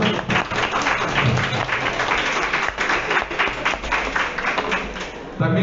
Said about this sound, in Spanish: También tenemos un fuerte aplauso.